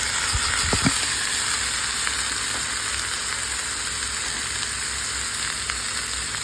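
Chopped ivy gourd fries in coconut oil in a pan, giving a loud, continuous, even sizzle with a few clinks and knocks near the start.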